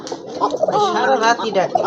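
A pair of pigeons cooing close by, soft throaty warbling calls repeating over the short stretch, with a faint voice mixed in.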